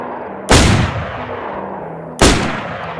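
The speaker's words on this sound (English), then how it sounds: "here are the 3 different shotgun sounds" Two loud shotgun blasts from the video game DayZ, fired within 0 to 50 meters, about 1.7 seconds apart, each a sharp boom with a long rumbling tail.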